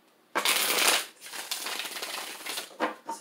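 Tarot cards being shuffled close up, in a few quick riffling bursts separated by short pauses, crisp and papery against an otherwise quiet background.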